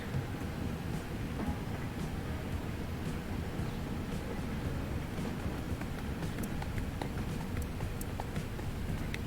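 A train running in the video game Transport Fever 2, heard as a faint, steady low rumble with light rhythmic clicks and clatter throughout and no voices.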